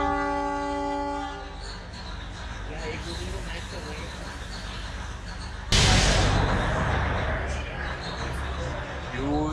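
A train arrives at Matheran railway station, opening with a loud horn blast, then rolling rumble and rail clatter as it nears, with a crowd's voices and talk underneath.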